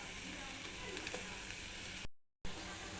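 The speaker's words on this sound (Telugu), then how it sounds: "క్యారెట్ వేసుకోవాలి. క్యారెట్ మంచిగా మగ్గాలి." Carrots frying in a pan for carrot rice give a steady, close sizzle that holds at an even level, broken once by a short silent gap near the end before the sizzle resumes.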